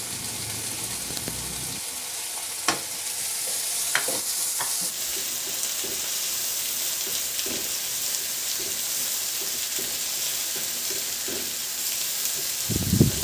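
Onion sautéing with ginger and garlic in a pan for chicken adobo, a steady close sizzle that runs throughout, with occasional soft scrapes and taps of a stirring utensil.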